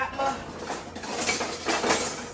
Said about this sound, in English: what I do is I just give my noodles a little toss